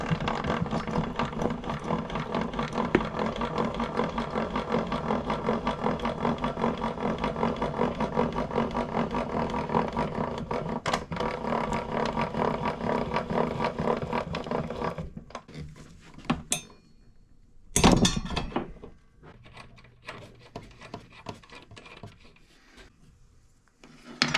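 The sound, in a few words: removing the table saw throat plate, Dewalt DWE7485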